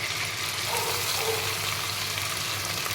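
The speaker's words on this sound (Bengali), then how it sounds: "এখন দিয়ে দিচ্ছি ভিজিয়ে রাখা মশলাটা" Soaked spice paste hitting hot oil in a pan, giving a steady close sizzle and frying hiss that holds evenly throughout with no talk over it.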